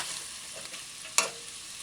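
A spoon stirs ketchup into a chicken and broad bean stew, producing a soft wet sizzling swirl with one sharper scrape of the spoon against the pot partway through.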